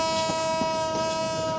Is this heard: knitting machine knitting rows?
no